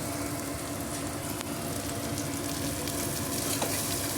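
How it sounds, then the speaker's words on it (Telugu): Capsicum curry with tomatoes and paste frying and being stirred in a pan, giving a continuous loud sizzle with scraping stir sounds on top, close by and without talk. "పచ్చి వాసన పోయేదాకా కలుపుకుందామండి."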